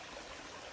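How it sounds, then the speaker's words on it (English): A flowing stream at a water source along a trail gives a steady, soft wash of running water throughout the brief moment, with no talk. "I found a water source. It's flowing pretty good."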